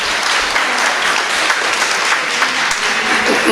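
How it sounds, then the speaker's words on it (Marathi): Loud, dense applause from a family get-together audience in Pune, continuous and even from start to finish with no talking over it. "तर मोठ्या जोरदार टाळ्या होऊन जाऊ द्या निलेशसाठी."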